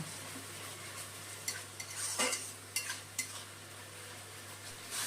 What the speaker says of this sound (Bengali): এখন এই গুঁড়ো মশলাগুলো ভালো করে কষিয়ে নেব